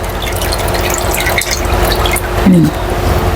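Bean sprouts being rinsed in a basin of water for a stir-fried water spinach dish: continuous splashing and trickling with clicking handling noises, loud and close, without speech.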